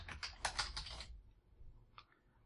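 Brisk typing on a computer keyboard for a short email subject line, a quick flurry of light key clicks for about a second, then a lone faint tap after a pause, quiet and close.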